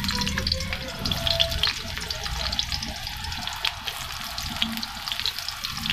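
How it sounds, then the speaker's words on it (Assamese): Onions drop into hot mustard oil and fry with a steady, close crackling sizzle, a busy hiss that continues evenly throughout with occasional stirring. "মিঠাতেল গৰম হোৱাত এতিয়া মই ইয়াত দিম পিয়াজ"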